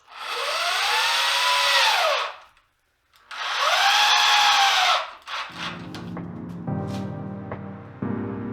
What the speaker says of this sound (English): I'm just presetting my screws here, so I can put that piece of blocking in and just be ready to screw it right through.